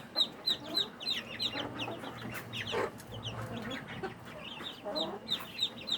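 Young ducklings in a brooding cage peep in quick, high repeated chirps close by, with faint background murmur throughout.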